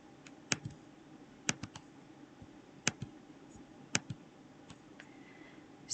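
Sharp computer mouse clicks in a quiet room, a few scattered single clicks with faint lighter taps between them, close and isolated.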